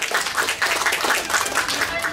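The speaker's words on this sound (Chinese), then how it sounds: "掌声鼓励。" Applause from a crowd at a temple groundbreaking ceremony in rural Taiwan, a steady patter of many hands clapping for about two seconds, fairly loud and close.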